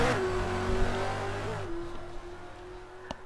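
A Mercedes V8 Supercar engine in a racing video game idles along on a slow warm-up lap, a steady mid-pitched drone that drops in revs partway through, with a faint click near the end.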